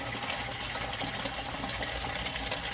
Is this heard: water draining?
yes